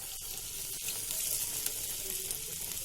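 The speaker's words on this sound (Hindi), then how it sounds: "बरा सब छाणी नौची।" Bara (vada) patties deep fry in hot oil with a constant sizzling hiss, soft bubbling and a couple of sharp clicks near the start, heard alone at moderate level.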